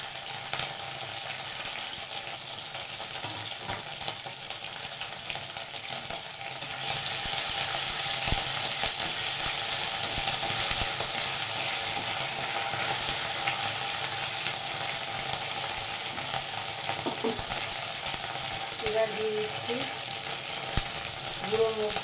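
Ginger paste frying in a pan for a vegetarian doi potol dish, a steady moderate sizzle with occasional stirring and clatter, close and without speech.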